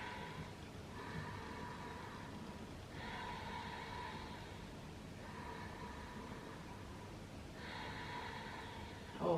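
Deep, slow breaths are taken during a yoga stretch with arms straightened and chest pushed forward. Three or four long, soft breaths sound quiet and close, separated by brief pauses.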